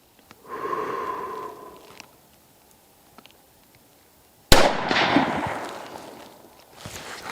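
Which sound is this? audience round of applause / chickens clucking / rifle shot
rifle shot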